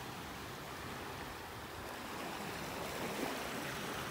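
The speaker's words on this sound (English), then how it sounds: "You can see the waves starting to break here along the sandbar offshore." Ocean waves break along a sandbar offshore at Delnor-Wiggins beach on a warm morning with the tide going out, a steady broadband wash of surf rolling continuously at moderate, distant loudness.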